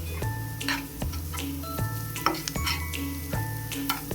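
Bay leaf and cinnamon fry over low heat with golden onions in a pan, a steady soft sizzle with regular ticking clicks and occasional stirring scrapes.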